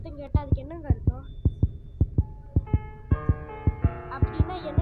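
Heartbeat sound effect from the Granny Car Escape video game: a steady run of close, regular thumps roughly three times a second, with a voice and sustained tones over the pulses.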